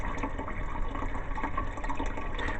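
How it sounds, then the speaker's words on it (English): Rainwater from a catchment system pours into a toilet tank, a steady rushing, gurgling fill heard close up and unbroken throughout. "This is rainwater coming in. It's not city water."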